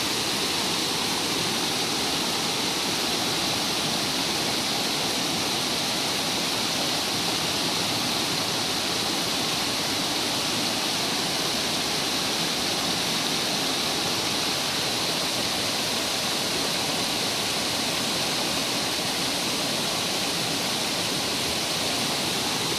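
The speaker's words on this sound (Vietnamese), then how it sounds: "ngồi để nghe tiếng suối chảy cũng hấp dẫn rồi" A stream at Suối Đá on Núi Dinh, Bà Rịa–Vũng Tàu, rushes over rocks in a constant, loud, even roar of flowing water, close by and unbroken, with no voices.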